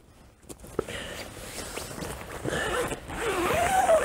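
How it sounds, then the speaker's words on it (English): A zipper runs along a waterproof curtain over the ventilation panel of a Vango Harris 350 air tent, giving close scratchy zipping strokes that grow louder toward the end, with soft handling rustles. "which will just zip up and keep the elements out when it's zipped up in position"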